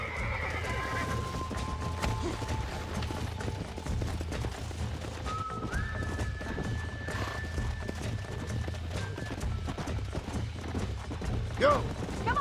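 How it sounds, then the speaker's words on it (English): Horse whinnies and hoof clops in the Western video game Red Dead Redemption, with a steady low music bed and brief mechanical sounds, while someone talks over them. "Here, you get back on your own horse."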